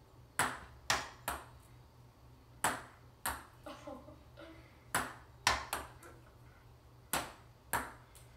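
Ping-pong ball bouncing off a table and cups in a beer pong game played with soda, around a dozen sharp, bright taps in an uneven rhythm, close and crisp, with short ringing decays and no voices.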